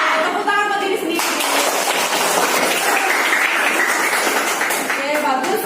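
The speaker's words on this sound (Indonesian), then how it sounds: "Tepuk tangan buat diri sendiri." Children in a classroom clap for themselves in a steady, sustained burst of dense, near applause that fills the room, with a teacher's voice briefly audible at the start and end.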